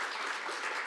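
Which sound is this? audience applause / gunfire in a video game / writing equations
audience applause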